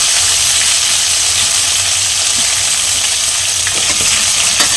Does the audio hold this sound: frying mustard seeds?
yes